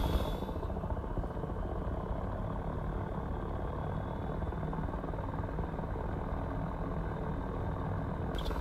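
AH-6J Little Bird helicopter in the DCS flight simulator, its turbine engine steady and loud as the throttle comes up to full N1, a continuous broadband rotor and engine roar with no talk.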